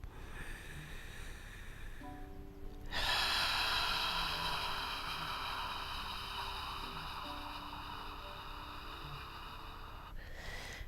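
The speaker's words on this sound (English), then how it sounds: "This is the yogic abdominal breath." A yogic abdominal breath, a long steady airy exhale with the belly drawn in, rushes loudly near the listener for about seven seconds, preceded by a quieter lead-in and followed by a soft, tapering close.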